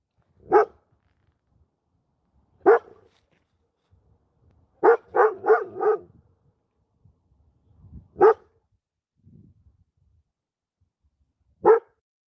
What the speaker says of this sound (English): The bark is not as, I guess, angry.